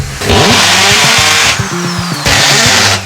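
A handheld power drill bores into a wall during apartment setup, whirring in loud bursts that start and stop, with the motor pitch rising and falling as the bit bites in, close up and alone.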